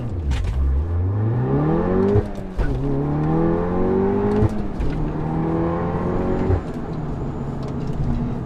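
APR Stage 2 tuned Golf R with manual clutch launching from a standstill and accelerating hard, engine note rising steeply through several gears with brief dips at each shift, loud and close from inside the cabin, no talking.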